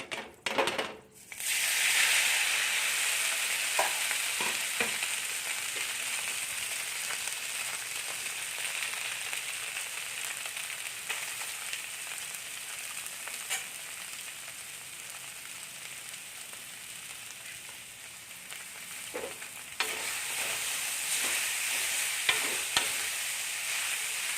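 Chowmein fries in hot oil in a wok, a steady loud sizzle running throughout with scattered scraping and stirring clatters of the spatula, close up and without talk.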